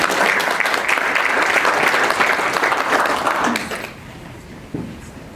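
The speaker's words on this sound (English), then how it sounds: "Please, a round of applause for that wonderful introduction." A conference audience of educators bursts into sustained, dense applause close by, holding steady for about four seconds before thinning out into a few scattered claps at the end.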